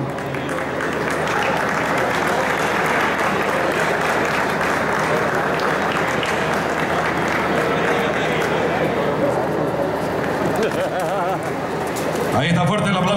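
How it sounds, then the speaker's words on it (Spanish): Crowd applause at a livestock show parade of champion cattle, a dense continuous wash of clapping held at a loud level throughout, with a shift in the noise near the end. "fuerte el aplauso para el caballero"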